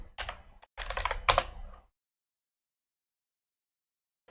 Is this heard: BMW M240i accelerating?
no